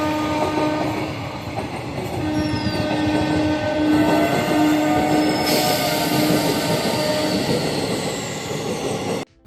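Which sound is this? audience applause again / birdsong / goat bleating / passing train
passing train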